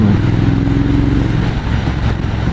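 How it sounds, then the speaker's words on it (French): A KTM motorcycle goes by on a mountain road in the Vosges, a loud, steady engine drone sustained close by for a couple of seconds without speech. "Ça, c'est une KTM."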